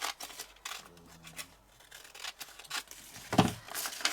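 Scissors snip through a cardboard record LP sleeve, with a few short close cuts and rustling paper handling, one sharper snip near the end.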